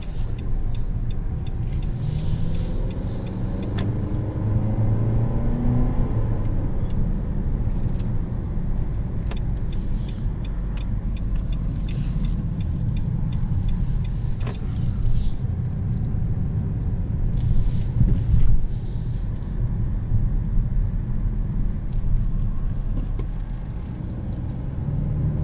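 Inside a 2021 Nissan Rogue Sport SL driving on the road: a steady low engine and tire rumble fills the cabin throughout, with faint occasional rattles and brief noise bursts over the drone and no voices.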